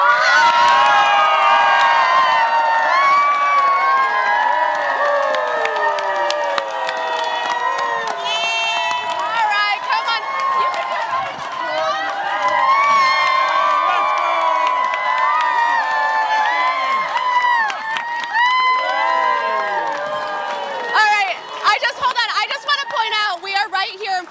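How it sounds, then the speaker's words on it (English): Large crowd cheering, whooping and shouting at the New York Stock Exchange opening bell for Viking, a loud, sustained roar of many excited voices close by, with bursts of whistles and shrieks near the end. "this crowd is just amazing"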